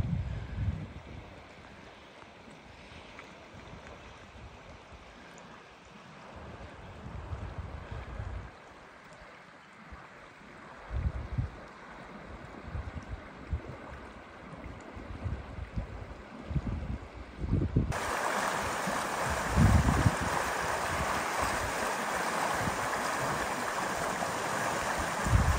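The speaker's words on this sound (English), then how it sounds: "Goes down by the river here" Savage River flowing along a hiking loop in Alaska, a steady broadband wash of moving water heard outdoors, with rustles and footsteps-like thumps throughout and the water growing noticeably louder and nearer near the end.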